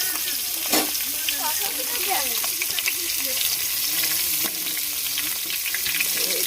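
Crab fries in a hot pan in a village kitchen, a constant loud sizzle with crackling pops, while voices talk underneath throughout.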